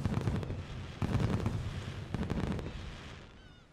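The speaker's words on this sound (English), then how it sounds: "Watching fireworks from the beach is the best." Fireworks bursting over a beach festival in the farming game Story of Seasons: Friends of Mineral Town, a close run of loud booming explosions and crackling pops in irregular clusters that fade toward the end.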